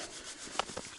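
Fresh snow is rubbed over skin at a bathhouse, a faint, soft scraping friction with one sharper crunchy stroke near the middle.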